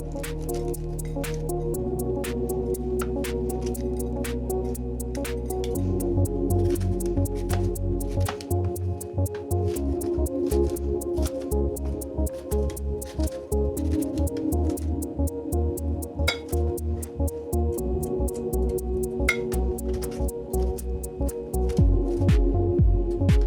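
A knife chops through bell pepper on a cutting board while making gazpacho, giving a quick, steady run of crisp cuts over continuous background music.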